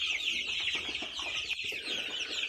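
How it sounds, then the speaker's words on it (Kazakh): Dense, continuous high-pitched peeping from a crowd of about 99 young chicken chicks with a turkey poult among them, a steady chorus close by with no talk. "99 тауықтың балапаны және мына бір индюктің балапаны міне."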